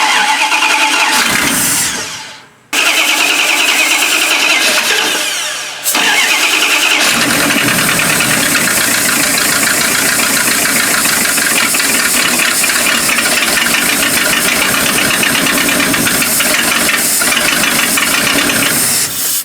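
A large old 1976 Winnebago Brave motorhome engine cranks, catches, and settles into a loud, rough, uneven idle with knocking and rattling, its driver's side muffler blown apart, running continuously close by.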